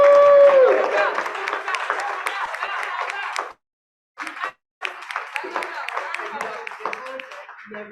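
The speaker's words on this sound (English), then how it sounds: "Big round of applause." Applause at a December school board meeting for second graders, a crowd clapping briskly in a room with speech mixed in, briefly cut to silence midway before the clapping resumes and tapers off.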